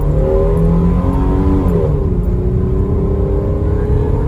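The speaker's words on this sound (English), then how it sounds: "A little bit of wheel spin there." A Holden VY Commodore launches hard with wheel spin, its engine a loud sustained roar with a falling pitch sweep midway as the revs change, close and continuous with no talking.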